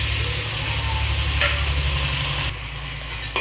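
Onion paste, ginger and garlic frying in a pan, a steady loud sizzle with stirring throughout, plus a low background hum.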